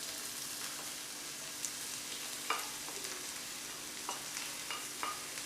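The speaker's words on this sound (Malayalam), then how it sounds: "ഇനി സവോള നമുക്കൊന്ന് വഴറ്റിയെടുക്കണം." Sliced medium onions sautéing over a low flame in a pan: a steady soft sizzle of oil with a few scraping stirs of a spatula cutting through, moderately close and without speech.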